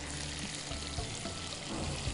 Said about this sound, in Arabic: احنا رح نقلب المقادير في الزبدة